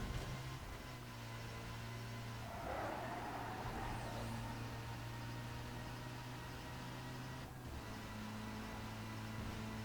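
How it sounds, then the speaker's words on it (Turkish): A car engine in the Need For Speed Most Wanted racing game, a steady humming drone with a brief swell in pitch and grit early on, fairly quiet and alone. "Abi şu aracın şu motoruna bayılıyorum ya."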